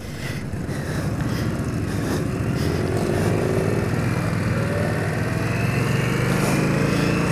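Indian Scout motorcycle engine while riding, a steady loud droning rumble sustained throughout with wind buffeting and no talk.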